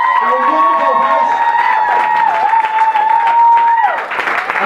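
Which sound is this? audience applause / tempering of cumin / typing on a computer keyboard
audience applause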